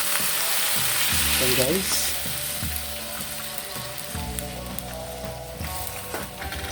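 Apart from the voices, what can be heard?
meat sizzling as boiling broth is added, watermelon sinigang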